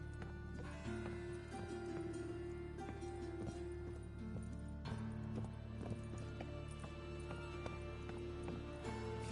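Horse hooves gallop at a steady clip-clop rhythm during a chase in the video game The Witcher 3: Wild Hunt. The hoofbeats are fairly quiet and run under sustained background music.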